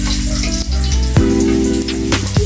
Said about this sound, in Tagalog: Ginigisa niya na yung bawang guys.